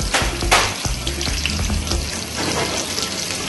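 Fish sizzling skin side down in a hot pan, a steady bright hiss with soft crackles and a few clinks, fairly close and heard without talk.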